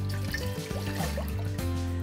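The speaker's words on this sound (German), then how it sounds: "Als erstes nehmen wir unser Wasser und lassen es schon mal langsam kochen" Water pouring and trickling into a pot for masala chai, a short steady stream with small splashes, close and fairly quiet.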